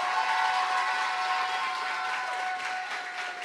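A radio studio audience gives a singer a thunderous round of applause, dense continuous clapping that tapers slightly toward the end, alongside a steady tonal hum.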